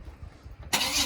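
A Chevrolet C10 short-bed truck engine catches abruptly after a quiet lead-in, jumping straight into a loud, full-bodied roar that holds steady close by.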